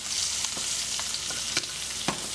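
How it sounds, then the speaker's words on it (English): Steak sizzles loudly in a pan while being basted with butter, a dense continuous frying hiss broken by several sharp spoon clinks and splatters, close up with no talking. "I'm going to use my spoon to baste the steak a little bit with the butter"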